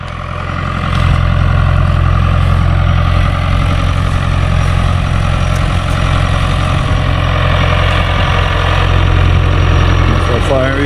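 A tractor engine runs continuously and loudly while preparing farmland for planting in Jamaica, a steady low rumbling drone close by for the whole stretch.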